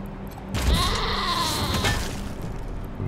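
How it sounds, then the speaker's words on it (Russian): A goat cannon fires in Wasteland 3 with a sudden loud burst, followed by a sustained goat-like bleat that fades over a few seconds against a rumbling game background. "мы хотели посмотреть, как козья пушка стреляет."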